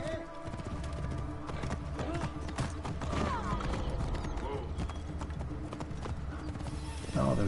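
Horse hooves clip-clopping at a gallop in Assassin's Creed Origins, a quick steady rhythmic beat up close with creaking tack and faint background voices.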